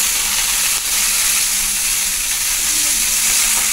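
Tomatoes sauté in hot oil in a kawali, giving a loud, steady sizzle with a continuous bright hiss and occasional soft stirring, close and uninterrupted.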